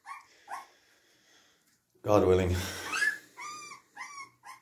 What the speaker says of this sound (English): we have loads of puppy fights